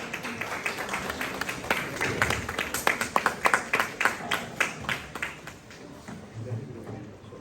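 A small group claps after an academic lecture, with sparse uneven claps building into a steady patter and then fading out, and a few voices murmuring underneath.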